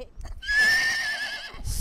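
A single horse whinnies in one drawn-out, wavering call lasting about a second, loud and close, preceded and followed by brief low thuds.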